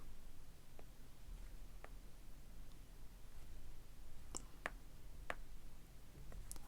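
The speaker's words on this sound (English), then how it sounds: "So the Apple Pencil works really well on the screen protector." An Apple Pencil tapping and drawing on an iPad Air 5th generation screen protector makes faint, sparse clicks and ticks scattered over a quiet background hiss, with a small cluster of sharper taps near the end.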